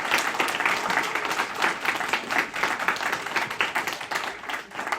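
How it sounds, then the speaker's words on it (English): Steady applause from a lecture audience, dense clapping held at an even level for the full stretch with no voices rising above it. "can we give Professor Gilbride a big round of applause?"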